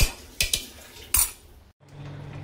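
A metal spoon scraping and clinking against a pan while stir-frying, three sharp knocks in quick succession followed by softer scraping and a quieter sizzle-like hum, close and without talk.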